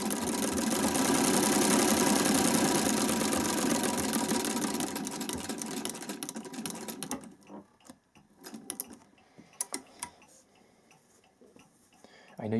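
A vintage Singer treadle sewing machine with a Swiss zigzag attachment runs a steady, rhythmic mechanical whir for about seven seconds, then stops, giving way to light clicks, handling noises and speech.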